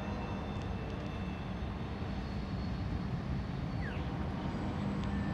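A train passes at night at Highgrove, a steady distant rumble of rolling wheels and engine with faint high squeals, continuous and even throughout.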